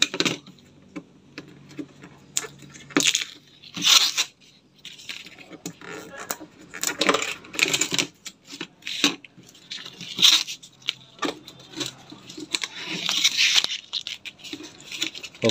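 Protective plastic film being peeled by hand off an LCD TV panel, irregular crackling and tearing bursts with sharp ticks, close and fairly loud, stopping and starting.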